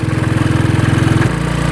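Garbage-fuelled motorcycle engine running steadily at low speed in first gear, then its pitch and rhythm change abruptly as it shifts into second, a loud continuous buzzing drone with no talking.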